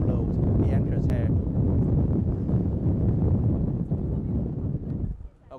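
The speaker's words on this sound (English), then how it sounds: "And it's very windy here." Strong wind buffets the microphone at an outdoor ceremony for the return of soldiers' remains, a loud continuous roar that drops away near the end, with a voice talking underneath.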